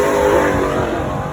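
A supercar pulls away on a demonstration run at the Beaulieu Supercar weekend, a loud, close engine roar that swells briefly and then eases off as it drives away.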